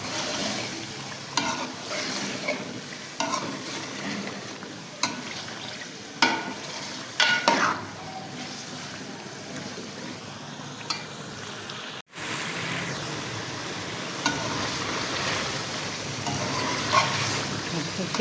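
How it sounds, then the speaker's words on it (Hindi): Chicken and potato pieces stir-fried in a pot for palak gosht, with steady frying sizzle and repeated scraping stirs of a spoon throughout, close and moderately loud, with a brief break midway. "चिकन और आलू हमारे अच्छे से भून गए हैं।"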